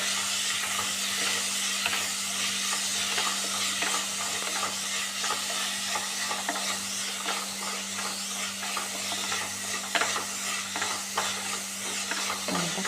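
Tomato, mango and green chili sizzle steadily in a pan for a small-fish curry, a continuous close hiss broken by light stirring scrapes and an occasional crackle.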